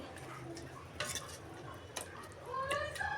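A spoon scrapes and clinks against a pot while fenugreek tomato curry is stirred, with a few sharp metallic knocks and faint sizzling, close up and with no talk.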